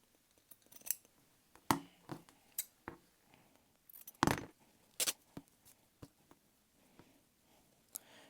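Scissors cut through fabric scraps in a series of crisp, close snips spaced irregularly over several seconds, some louder than others, in a quiet room with no talking.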